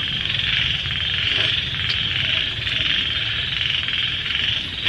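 Small frogs croak steadily at night in rural Ea Trul, Dak Lak, a dense continuous chorus with a bright shrill layer over low rumbling, nearby and constant throughout.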